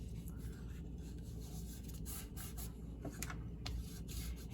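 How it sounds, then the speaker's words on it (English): Fingers rubbing firmly over a glued paper card tab on a handmade pillar card, soft close scraping strokes repeated under a quiet background hiss. "And give it a good rub."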